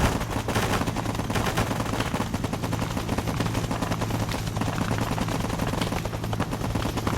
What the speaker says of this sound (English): Everybody fire.